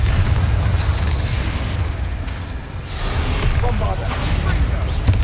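A heavy booming blast from the Confringo spell in the video game Hogwarts Legacy rolls through a loud, continuous combat din, with a short dip midway before the roar swells again.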